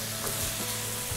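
Catfish stir-fried in red curry paste with green peppercorns, a steady close sizzle and frying hiss running throughout with faint stirring clatter.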